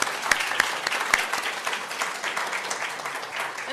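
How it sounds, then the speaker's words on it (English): A congregation bursts into sustained applause, several sharp close claps at the start giving way to a steady wash of many hands clapping together in a large room. "Yes, let's clap for the landscaping."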